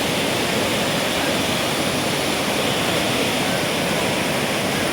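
Huai Chan waterfall in Khun Han, Sisaket, flowing strongly after rain with muddy red water, a loud, constant roaring rush that fills the whole clip.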